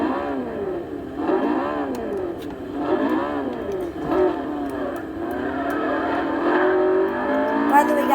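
A car engine revs repeatedly in the racing video game Forza Horizon 2, heard through a TV, rising and falling in waves of moderate loudness for several seconds.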